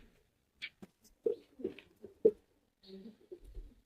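Lahori and Sirazi pigeons kept for sale coo in soft, low bursts, mixed with faint voices and scattered rustling nearby.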